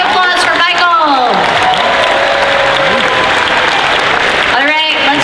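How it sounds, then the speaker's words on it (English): Loud, dense audience applause and cheering at a costume contest, a continuous roar with whoops and voices rising over it at the start and again near the end. "Big round of applause for Michael."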